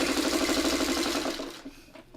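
A sewing machine stitches fabric for an easy leaf pattern, running in a fast, even mechanical rattle up close before slowing and stopping, followed by faint handling noises.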